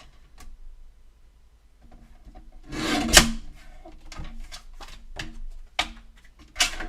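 Card inserts cut down from quarter sheets to 4 by 5 1/4 on a paper trimmer, two at a time: a quiet scraping slice around the third second, then scattered light clicks, taps and shuffling of card.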